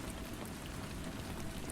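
Steady rain falls in a dense, even hiss of countless drops on surfaces, continuous and fairly loud with no pauses or other sounds.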